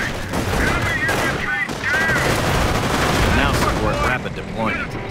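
Dense, continuous battlefield gunfire from the video game Company of Heroes, with rapid machine-gun bursts and booms layered loudly throughout, along with faint voice callouts mixed in.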